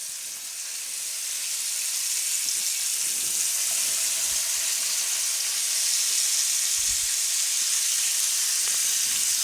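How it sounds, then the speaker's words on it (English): Chicken drumsticks sizzle in hot oil in a skillet, a loud steady bright hiss and crackle that swells after the pieces go in and holds throughout, with no one speaking. "just put them directly into the oil. Listen to those sizzle"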